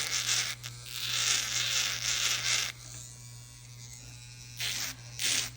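An electric nail drill with a carbide bit files acrylic stiletto nails, its high buzzing whine rising and falling in bursts as it touches the nail, with a constant low motor hum underneath.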